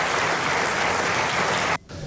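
Applause breaks out during a president-elect's speech at a podium. The clapping is steady and dense, then drops off sharply near the end.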